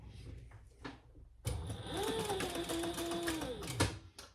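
A sewing machine stitching along a drawn pattern line for a crossbody bag, running in a steady fast mechanical whir with a rising and falling motor tone, close and continuous after a brief quiet start.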